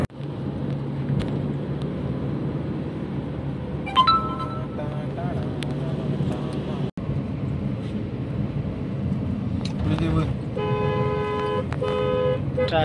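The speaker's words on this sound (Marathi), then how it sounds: "ट्रॅफिक जाम लागली ही रे." Stuck in a traffic jam near Pune, car horns toot from nearby vehicles in a couple of clusters over a steady engine and road rumble.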